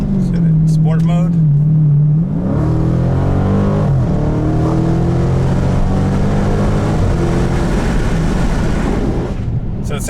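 A Dodge Challenger T/A with a 6.4-liter V8 starts up and settles into a loud, deep, throbbing idle with shifting pitch, as someone talks over the rumble.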